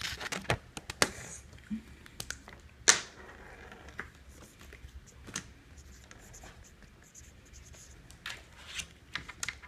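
Pen scratching on paper during a Telestrations drawing game, soft close-up strokes and scribbles in irregular bursts with a few sharper taps, without clear speech.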